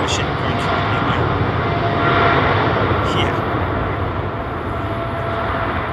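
An airliner's jet engine roars steadily at London Heathrow Airport, a loud continuous rumble with a faint high whine, while a voice talks over it.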